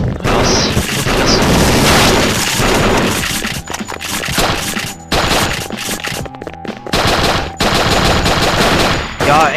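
Loud, rapid gunfire from revolvers in the video game ThingThing Arena 3, crowded volleys of shots with brief gaps, mixed with booms and crashes and a voice heard faintly under the action.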